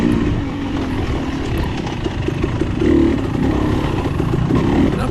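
A 2022 KTM 300 XC-W two-stroke dirt bike races through a wooded hare scramble course, its engine revving hard and steadily up close, with rising throttle surges and no talk.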